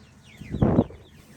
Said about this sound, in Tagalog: Puro manok na. Maliliit na manok.